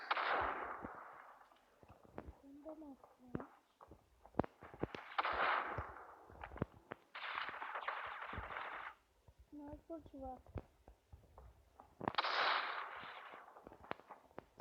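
Sniper rifle fire in the mobile shooter game Critical Ops, several loud sharp cracks with noisy bursts spaced a few seconds apart, mixed with other game effects and a person talking in between.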